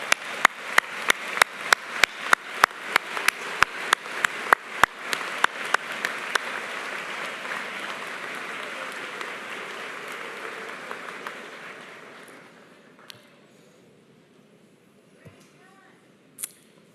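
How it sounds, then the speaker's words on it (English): Graduation audience at a Gustavus Adolphus College commencement bursts into applause, opening with sharp rhythmic clapping that turns into a broad crowd roar, then fades away to near quiet with a few stray claps. "show your appreciation to your family and friends gathered here today with a hearty round of"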